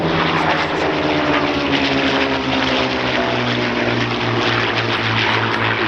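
Spitfire Mark 9 and P-51 Mustang propeller fighters flying at the Dunsfold Wings & Wheels airshow, a loud, steady piston-engine drone with a throbbing low hum that holds throughout, no talk over it.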